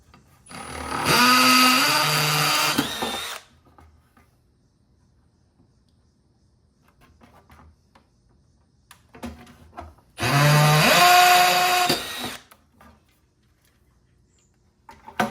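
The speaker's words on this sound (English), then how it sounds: "So now I'm just going to start drilling them out." Power drill boring holes for a phone mount in a 2015-2020 Ford F-150, two loud whining bursts of about three seconds each separated by quiet, no voices.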